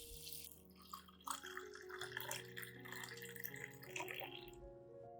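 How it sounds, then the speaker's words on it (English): Clean water poured steadily into a glass cup holding a few tablespoons of rice, a continuous close splashing and gurgling stream lasting several seconds. "Next, pour 500 milliliters of clean water into the cup."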